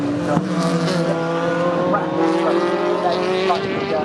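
Sports prototype race cars in a Clubmans championship race at Snetterton roar past one after another, loud high-revving engines rising and falling close by, with a voice talking over them.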